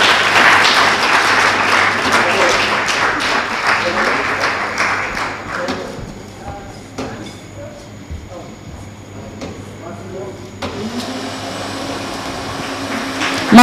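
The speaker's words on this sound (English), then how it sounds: "Let's congratulate all our stakeholders with a round of applause" Audience applause at the national launch of a political parties' model manifesto in Kenya, a dense, loud burst of clapping that fades after several seconds into a quieter hall hum with scattered claps and murmuring.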